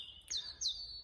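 Two bright, high chirping bird calls ring out in quiet woodland, each a short descending tweet, close and clear against near silence.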